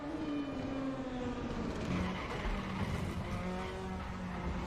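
A damaged DTM race car from 1992 in the Raceroom racing game at Watkins Glen, its engine droning roughly at steady revs with a faint whining tone and an unhealthy sound, some distance off.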